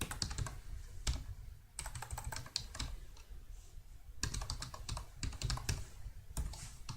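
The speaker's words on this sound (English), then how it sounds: "For example, I type some letters here." Letters are typed on a computer keyboard in rapid bursts of close, crisp key clicks separated by short pauses, quiet and without talk.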